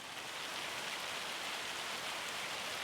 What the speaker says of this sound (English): And that is hail.